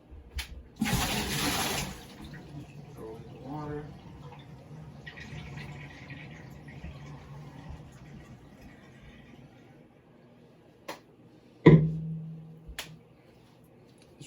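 Water poured into a Water Express whole house filter housing during filter replacement: a short burst of splashing and pouring near the start, then quiet handling noises and a couple of sharp clunks later.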